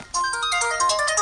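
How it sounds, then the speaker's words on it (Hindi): A phone ringtone bursts in loud and close, a bright repeating electronic melody playing on its own. "आपका फोन आया।"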